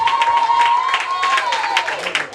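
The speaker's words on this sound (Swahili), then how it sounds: "Makofi kwa Yesu Kristo." Church congregation clapping and cheering in praise during a Swahili service, a brief burst of dense applause alongside a sustained tonal sound, loud and close.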